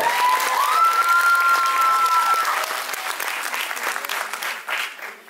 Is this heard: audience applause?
yes